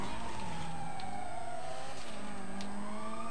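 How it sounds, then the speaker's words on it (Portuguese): A police car siren wails in GTA V, rising and falling faintly over an engine's drone and steady game ambience. "Se você desligar a sirene, talvez ajude."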